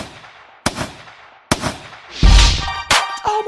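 Several sharp, loud bangs at irregular intervals, gunshot-like cracks with a heavier booming blast in the middle.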